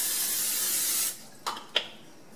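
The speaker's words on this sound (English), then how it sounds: "But the last step is spraying your chicken." Cooking spray hisses from a can onto chicken in a casserole dish, one steady close spray lasting about a second, followed by a couple of short soft clicks.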